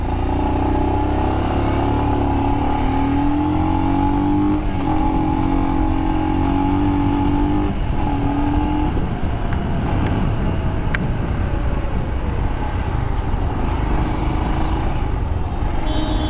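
A Royal Enfield Scram 440 motorcycle rides in second gear, its engine note loud and close throughout, with small pitch shifts as the throttle changes and steady road and wind rumble beneath.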